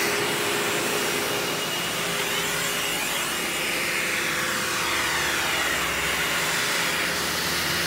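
A Hoover Windtunnel Bagless U5786-900 Anniversary Edition upright vacuum runs with a loud, steady whooshing roar, close and continuous, with slight shifts in airflow tone and no speech.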